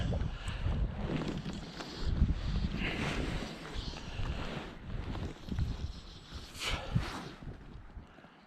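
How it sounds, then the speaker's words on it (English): Wind gusting across the water while fishing from an anchored boat, with rumbling, buffeting gusts that rise and fall, moderately loud and close, alone without talk. "the wind comes up just as I"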